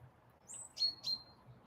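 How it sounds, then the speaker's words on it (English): Morning birdsong outdoors: a few thin, high chirps and short whistled notes, faint and somewhat distant, rising over a quiet low background hum. "Allowing this beautiful bird song to find its way to your ears."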